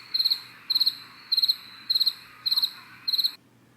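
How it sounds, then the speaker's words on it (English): Crickets chirp in six evenly spaced, high trilling bursts, each a quick cluster of pulses. The sound is clear and close, then stops abruptly. "It was like crickets."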